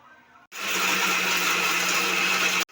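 Mixer grinder grinding roasted whole spices, cinnamon, ginger, garlic, coconut and onion, a loud steady whirring drone that starts abruptly, runs about two seconds and cuts off, with a quieter hum before it.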